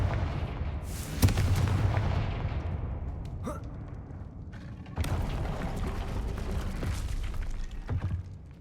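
A Confringo fire spell blasts in the video game Hogwarts Legacy, two loud booming bursts roughly four seconds apart, each leaving a rumbling wash of noise that slowly fades.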